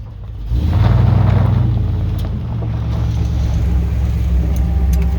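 A restored classic off-road truck with a cammed small-block Chevy engine revs up close by, then settles into a loud, lumpy, steady idle rumble.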